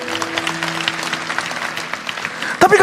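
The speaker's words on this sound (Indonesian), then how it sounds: "Kasih tepuk tangan untuk Tuhan sekali lagi." Church congregation claps in praise at an Indonesian worship service, a steady patter of many hands over a faint sustained tone, ending in a few louder close hits.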